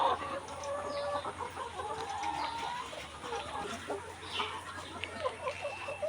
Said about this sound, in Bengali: আজকে আমরা খুঁজে খুঁজে এই একটা মুরগি বের করছি